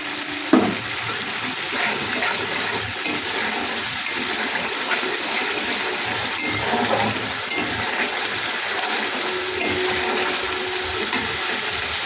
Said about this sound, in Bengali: ধুয়ে একটু জল দিয়ে দিচ্ছি আমি তাহলে মশলাটা পুড়ে যাবে না